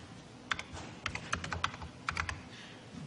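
Fingers tap out an uneven burst of keystrokes on an early Macintosh computer keyboard, faint clicks with short pauses between, heard alone against quiet room hiss.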